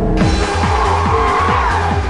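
A Porsche Carrera GT, a carbon-composite two-seater sports car, drives loud and close, its engine roaring steadily under sustained tire squeal, with repeated rising engine sweeps.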